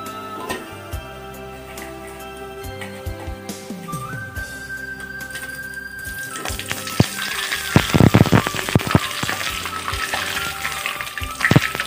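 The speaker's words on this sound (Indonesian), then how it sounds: "Belutnya sudah selesai digoreng." Pieces of eel fry in hot oil for belut balado with a steady, loud sizzle that swells and crackles more densely toward the end, while a thin whistling tone sounds partway through.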